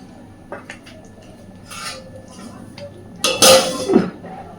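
A lid placed over a kadai of frying cauliflower-leaf paste gives a few light metallic taps, then a louder clattering clank near the end, close by over faint frying background.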